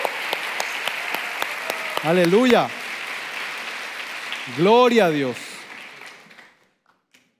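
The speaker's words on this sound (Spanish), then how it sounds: "Dale un aplauso al Señor." Steady applause from a church congregation during a sermon runs throughout, with a voice calling out twice above it before the clapping fades away near the end.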